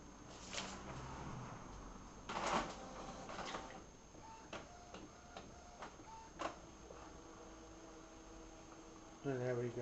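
An Epson printer runs a nozzle check print, giving off quiet irregular ticks, clicks and short whirring motor tones, with a few louder mechanical clunks near the start and end.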